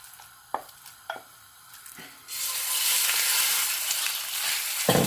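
Marinated chicken hits hot cooking oil in a pan. A few light taps and clatters come first, then a sudden loud sizzle and crackle of frying that keeps going, close up and with no talking.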